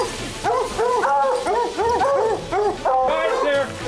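Hunting dogs bark and yip in a steady run of repeated calls at a treed mountain lion, close and loud, with a short pause near the end.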